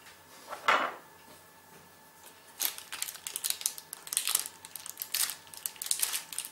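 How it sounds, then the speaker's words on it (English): A knife slicing a pan of chocolate brownies into squares, with an early scrape and then a steady run of crisp crunching, clicking cuts close by, no talking. "now we're just going to cut it into squares or whatever you like"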